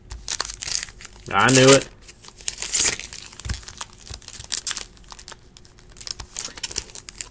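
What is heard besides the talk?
tearing open a 2018 Bowman Baseball card pack wrapper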